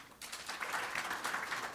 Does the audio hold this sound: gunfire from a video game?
no